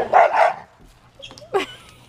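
Two dogs out on a neighborhood walk give a few sharp, close barks and yips in quick bursts, with short quiet gaps between them.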